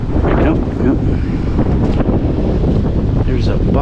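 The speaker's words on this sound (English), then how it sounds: "Hiding from the wind." Strong wind blows outdoors, buffeting the microphone with a loud, continuous, gusty roar throughout.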